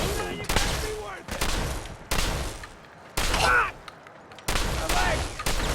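Bursts of rapid gunfire from the video game Demon's F4 crack out in short volleys separated by brief pauses, loud and close, with one higher whine in the middle.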